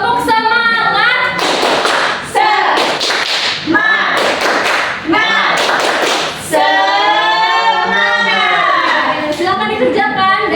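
A class of children claps a fast rhythmic spirit clap in a classroom, sharp bursts of hand claps alternating with children's voices chanting along.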